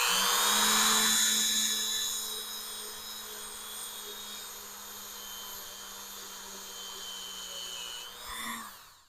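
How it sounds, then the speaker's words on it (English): A Dremel fitted with a small wire brush strips paint from sheet metal, giving a high, steady whine that stays close and constant, then briefly rises near the end. "To actually clean the paint off, I'm just going to use a Dremel with a little wire brush on it."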